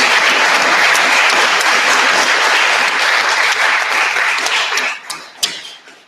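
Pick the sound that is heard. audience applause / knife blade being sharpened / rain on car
audience applause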